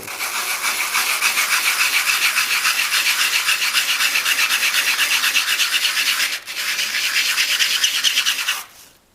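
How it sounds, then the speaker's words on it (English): Sanding down a cheap Radio Orphan Annie decoder pin by hand: steady, close, rapid back-and-forth scratchy rasping that continues for several seconds, breaks off briefly, resumes, then stops. "we're going to see if we can sand this down a little bit and get it to work properly"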